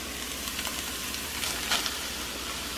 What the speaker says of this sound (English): Stir this well and cook the onions and peppers until they are tender.